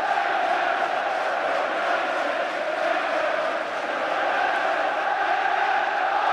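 A football crowd at the 1990 FA Cup Final between Manchester United and Crystal Palace roars in a steady, distant wash of cheering and chanting that holds at an even level throughout.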